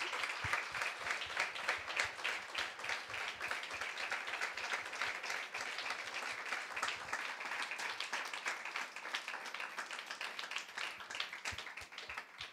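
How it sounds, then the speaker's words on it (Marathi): A church congregation at a Sunday sermon breaks into sustained applause, a dense, even wash of many hands clapping for the full stretch, fairly distant and soft, with little talk over it. "जरा जोरात टाळ्या वाजवा"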